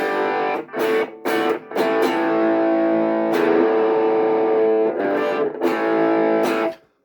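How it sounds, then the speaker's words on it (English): Electric guitar runs through an Electro-Harmonix Soul Food overdrive pedal near maximum gain, playing sustained distorted chords and short stabs with brief pauses between phrases, loud and full with no speech. "you can see the Electro-Harmonix Soul Food, which used to be my favorite overdrive"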